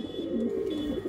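A pigeon at a Ludhiana pigeon seller's loft gives one short, low, close coo, heard alone.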